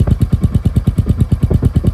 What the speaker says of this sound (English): I love the way the engine sounds